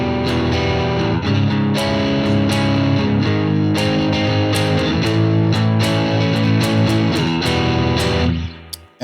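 Squier Classic Vibe '60s Mustang electric guitar with both pickups in phase, played with distortion, strummed chords and picked notes ringing continuously, loud and close, with reverb tail at the end.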